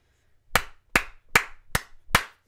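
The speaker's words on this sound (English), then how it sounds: "What are you clapping for?" Five slow, evenly spaced hand claps ring out crisply and close in a quiet room, with no talking.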